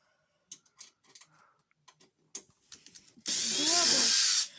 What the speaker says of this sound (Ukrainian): Так, починаємо розкручувати. Ось наш шурик. Крутим.